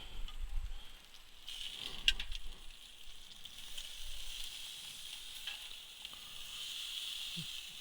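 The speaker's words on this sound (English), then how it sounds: "So you definitely want to brown and sear the outside of the meat." Steak searing on a gas grill gives a steady, fairly quiet sizzle and hiss that holds throughout, with a few brief crackles and pops rising above it and no voices.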